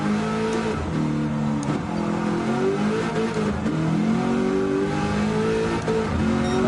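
A race car engine in Gran Turismo 7 revs continuously with a slight lope, rising and falling through several sweeps. The sound is loud and steady and plays alone.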